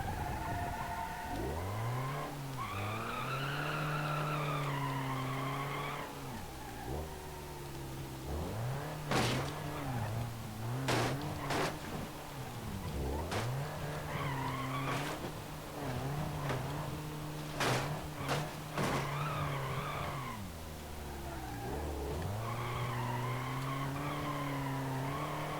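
An Ibishu Kashira 2.5 turbodiesel car in BeamNG.drive revs and accelerates in rising and falling sweeps, tires squealing and skidding in sharp bursts between gear changes, loud and close throughout.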